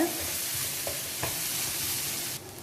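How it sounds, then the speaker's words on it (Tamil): Crushed ginger and garlic sauté in a pan for broccoli rice, a steady close hiss of frying with a few soft scraping stirs, then the sizzle drops off abruptly near the end; no voices. "இந்த இஞ்சி பூண்டோட ரா ஸ்மெல் போகிற வரைக்கும் நம்ம நல்லா கொஞ்சம் வதக்கிக்கலாம்"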